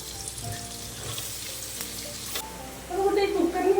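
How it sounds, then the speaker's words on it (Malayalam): Onion going into hot oil with garlic and ginger for a pressure-cooker chicken curry: a soft, close sizzle that jumps to a louder, crackling fry with stirring near the end. "ഇനി അതിലേക്ക് നെക്സ്റ്റ് സബോള ഇടുവാണ്."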